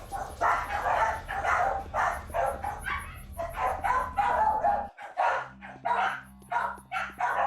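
Dogs bark repeatedly at close range in quick bursts throughout, a constant hum running underneath, with a shift in the background tone partway through.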